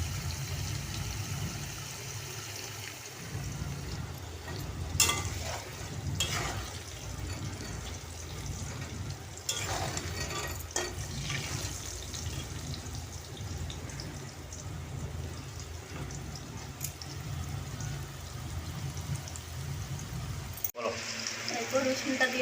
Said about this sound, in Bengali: দেখো আলুটা ভাজা হচ্ছে।